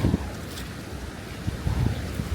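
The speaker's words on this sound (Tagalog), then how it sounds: "Ang lakas ng hangin" Strong wind gusting hard against the microphone in the Dutch countryside, a loud continuous roar with bursts of buffeting, no voices.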